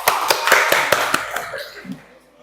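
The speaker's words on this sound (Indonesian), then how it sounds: "Tepuk tangan dong buat semuanya buat kita." A school class claps hands together in a rhythmic burst of about eight sharp, evenly spaced claps that fade out, with a brief murmur of voices at the end.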